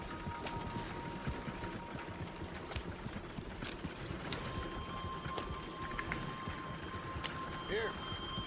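Horse hooves clip-clopping at a walk in Red Dead Redemption 2, a steady rhythmic beat under ongoing speech and a constant ambient bed, with faint mechanical creaks and a brief whinny-like call near the end.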